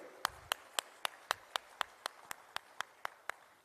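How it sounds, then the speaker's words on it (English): Faint, regular claps at a capital market investment forum in Sri Lanka, roughly four per second, even and isolated, with no talking over them. "Can we have a good round of applause to all of you?"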